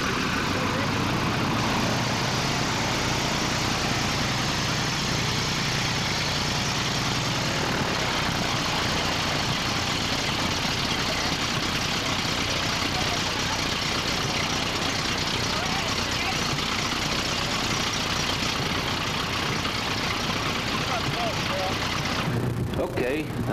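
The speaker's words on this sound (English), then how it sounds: "This airplane is fitted with a Continental R-670 engine of just about the same weight and horsepower." The Continental R-670 radial engine of a 1929 Standard D-25 biplane idles in a steady, loud, continuous drone that holds unchanged for about twenty seconds before abruptly cutting off near the end.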